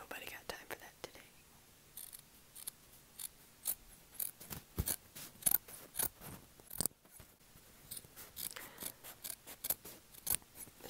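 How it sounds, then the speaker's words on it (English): Large scissors snip through fabric in a rapid, uneven series of sharp close-up cuts, crisp and loud against a quiet background with no talking. "The sounds really aren't loud enough with the smaller scissors when you cut the fabric, so these sound way better."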